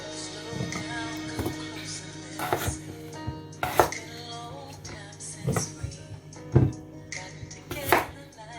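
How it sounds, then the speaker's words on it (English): Washed potatoes are cut into wedges with a kitchen knife on a board, making a series of irregular, close, crisp chops and thuds with short pauses between strokes. "We're going to go ahead and cut it into our potato wedge shape nicely."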